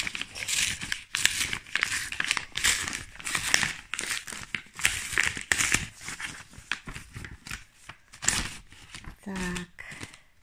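A mailed Christmas letter envelope is torn open, with crisp paper crinkling and rustling in repeated bursts close by, and someone speaking briefly.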